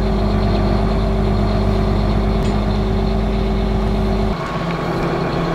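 Steady, loud engine drone with a heavy low rumble, heard from inside a tractor cab; the pitch drops slightly near the end.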